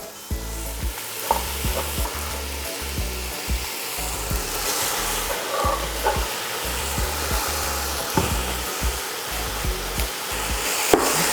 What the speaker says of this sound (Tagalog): Ginigisa ko lang tong pork hanggang mag-umpisa ng mag-light brown yung outer part.